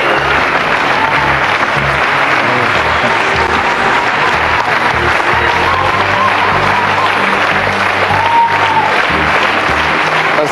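Studio audience on a French quiz show applauds loudly and continuously, a thick, steady wash of clapping that never lets up, while a voice is heard faintly beneath it.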